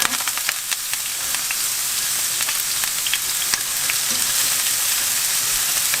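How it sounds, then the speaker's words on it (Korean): Cooking oil heating in a hot frying pan gives a loud, dense, unbroken sizzle and hiss with a few faint ticks and crackles scattered through it, close and steady throughout. "달궈진 팬에다가 식용유를 두르시고요."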